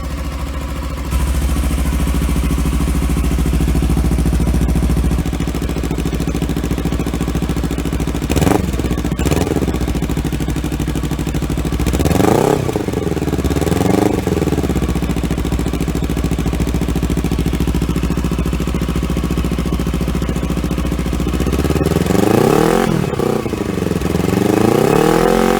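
A Kawasaki Versys X300 motorcycle with an aftermarket exhaust idles with a steady close rumble, then blips its throttle in several sharp revs that rise and fall quickly between stretches of idle.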